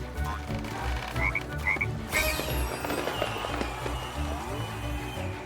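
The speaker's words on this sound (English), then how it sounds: "Also, another frog fell in." Frogs croak repeatedly in the video game Lego Party, loud and close over steady game music and effects.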